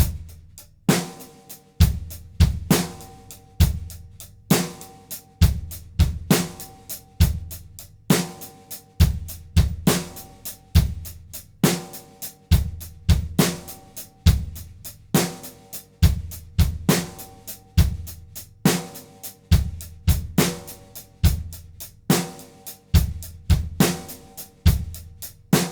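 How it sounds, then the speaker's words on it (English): A drum set plays a triplet-feel beat with the bass drum on the first and third notes of each triplet, a steady, even groove of punchy drum hits repeating at a moderate tempo without talk. "I'm going to play the first note of the triplet with the bass drum and the third note of the triplet with the bass drum."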